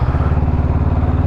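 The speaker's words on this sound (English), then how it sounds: "Don't worry, I wasn't revving at you, I was downshifting." A motorcycle engine on a UK learner's licence ride, running with a steady low, throbbing pulse, near and loud, without any clear rise or fall in pitch across the short stretch.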